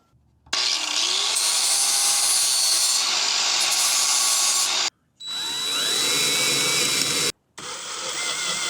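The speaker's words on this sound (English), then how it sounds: "So I'm going to grind off that little protruding screw." A power grinder cuts off a protruding screw while a blackwater tank is fitted into a cargo trailer, giving loud, steady high-pitched grinding in three long bursts separated by brief pauses, close up and with no voices.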